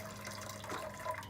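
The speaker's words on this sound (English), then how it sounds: "Okay, hot water." Hot water poured into a donabe clay pot, a quiet, steady trickling pour with faint splashes rising partway through, close by and without talk.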